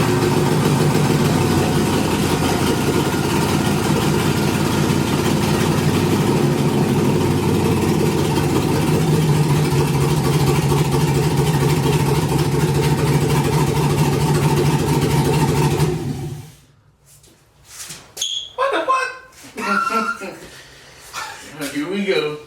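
Nissan 300ZX with a swapped LS V8 running after its first start, a loud steady close idle for about sixteen seconds before it is cut off, leaving a few quiet clunks and bumps.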